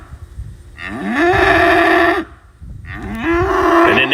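On a ranch, bulls and weaned calves moo loudly and close up, giving two long, drawn-out bellows with a short pause between them.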